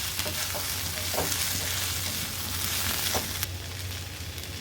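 Chopped bottle gourd and tomato sautéing in a pan for chutney give a continuous close sizzle with occasional soft stirring taps and a low steady hum beneath, no one speaking.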